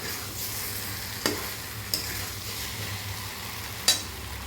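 Potatoes tossed into a pan of frying chicken stomach and egg curry, a quiet, steady sizzle marked by a few sharp clicks and scrapes of a utensil against the pan.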